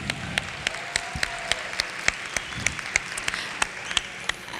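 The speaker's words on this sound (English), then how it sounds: "Round of applause for all of you" Applause at a university convocation, with sharp individual claps standing out over a softer spread of clapping from the audience, fairly close and continuing steadily throughout.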